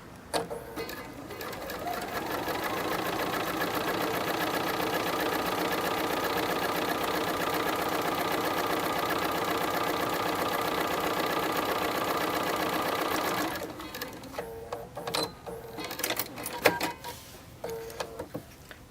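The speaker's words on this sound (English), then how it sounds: "We're going to back stitch at the start." A sewing machine stitches the seam of a fabric face mask, humming steadily and loud for a long run before stopping, followed by a few scattered clicks and handling knocks.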